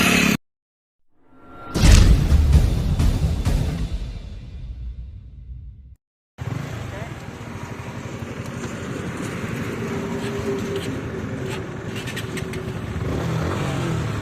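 Yamaha R15M and Bajaj Pulsar NS 160 BS6 motorcycles drag racing, a loud close pass of revving engines fading away, then a sustained engine drone from onboard after a brief silence.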